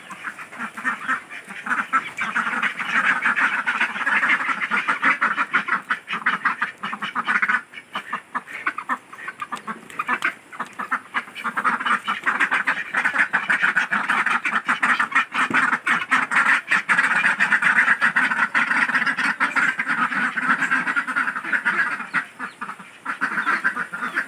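A flock of domestic ducks quacking continuously and loudly, many overlapping calls forming a dense, nearby chorus.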